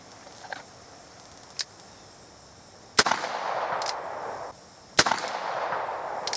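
Shots from a Charles Daly 1873 Single Action Army revolver aimed at steel targets outdoors: a couple of sharp reports about two seconds apart, each followed by a long rolling echo, with fainter pops before them.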